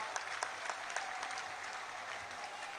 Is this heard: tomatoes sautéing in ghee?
no